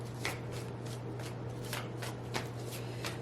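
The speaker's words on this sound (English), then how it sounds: "let me go ahead and shuffle this deck" An Angels Answers card deck is shuffled close up in a steady run of soft riffling bursts over a faint low hum.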